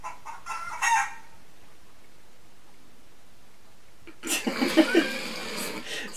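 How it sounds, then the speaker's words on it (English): Brief clucking at the start, a quiet pause, then a loud rooster crows nearby, its call rising and breaking into several pulses. "that's a chicken noise"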